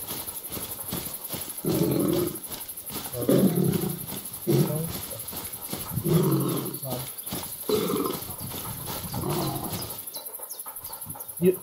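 Low, rumbling animal growls come in repeated bursts, near and fairly loud, from a big-cat-like creature during a hunt in the video game theHunter: Call of the Wild. A person talks over parts of it.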